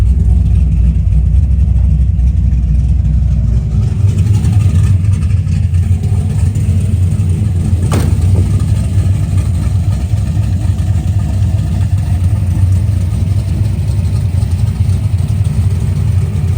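A 1971 Chevelle with a modified TH400 transmission driving, its engine a steady, loud low rumble heard from inside the car throughout, with no sharp revving.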